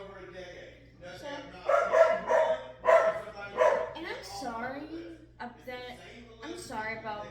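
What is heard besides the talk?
dogs barking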